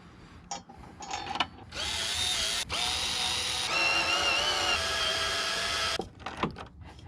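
Headlight guard bolts on a Jeep JL are driven by a small impact wrench, a few short buzzing bursts followed by a sustained whining hammering run of several seconds, then brief clicks.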